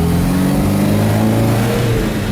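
A 1967 Volvo Amazon 122S station wagon with a B18 dual-carb engine and header pulls hard under acceleration, a loud, steady low engine drone close by, with no talk over it.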